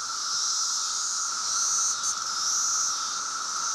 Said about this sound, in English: It's the summer sound of cicadas, 17 years in the making.